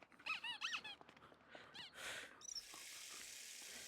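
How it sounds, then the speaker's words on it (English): A squeaky toy lets out a quick cluster of high, chirping squeaks near the start, then a few more toward the middle, before fading into a soft steady hiss. "Oh, it's a squeaky toy."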